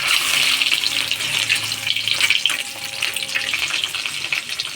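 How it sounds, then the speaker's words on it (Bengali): Eggs dropped one by one into hot oil, seasoned with salt and pepper, spitting in a steady close sizzle with faint clinks and watery crackle running throughout, no voices. "তেলটা আমার গরম হয়ে গেছে, দিয়ে দেবো একে একে ডিম।"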